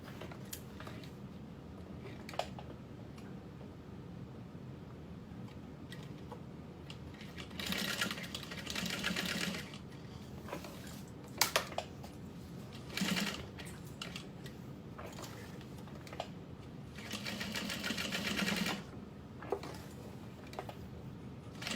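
A sewing machine stitches a small box stitch on a bag strap in a few short, quiet bursts of rapid mechanical whirring, separated by pauses.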